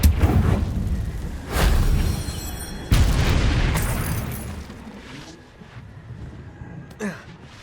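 Confringo blasting spells in Hogwarts Legacy go off as loud booming explosions. Two heavy blasts come a second or so apart, their rumble slowly fading, and a smaller crack follows near the end.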